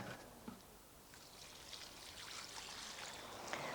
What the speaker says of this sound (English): is to water it in really well.